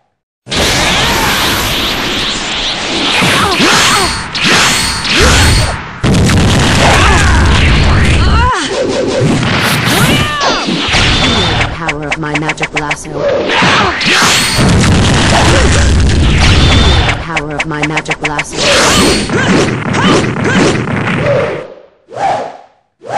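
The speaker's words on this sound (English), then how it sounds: "My magic blaster." A magic blaster fires in a video game, loud blasts with whooshes and booming impacts that pile up in dense bursts, broken by short gaps and a stuttering crackle, with game voices mixed in.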